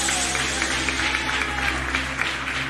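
A church congregation claps together in steady applause, a dense continuous patter lasting the whole stretch at a fairly loud level, with a sustained low hum and faint musical tones beneath.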